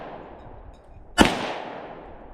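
A single sharp gunshot from a converted PPS submachine gun cracks out loud and close, then rings and decays in the air with no follow-up shots.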